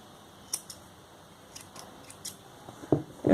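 Scissors snip crochet yarn on fingerless gloves in a few quiet, crisp cuts, closing with louder close clicks of the blades at the end, no voices heard.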